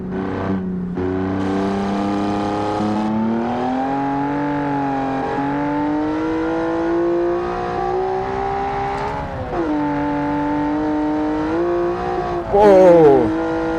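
A car engine in the Automation racing game winds up past 8,000 rpm, its whining pitch climbing, dipping at gear changes and climbing again, loud and steady, with a short sharp burst near the end.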